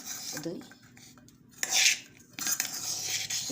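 Spoon stirring and scraping chopped coriander through a basket puri filling in a bowl, with intermittent clinks of metal against the dish and a louder burst of rubbing mid-way.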